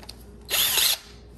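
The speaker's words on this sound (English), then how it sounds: "I take it and I put it into my cordless drill." A cordless drill whirs in one short, loud burst of about half a second to tighten its chuck, rising and dropping off quickly against a quiet room.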